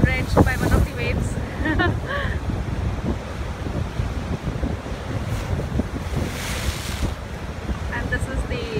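Ocean waves surge and crash at the Nakalele blowhole on the Hawaiian coast, a loud continuous wash of surf with heavy wind buffeting the microphone throughout, and faint voices occasionally breaking through.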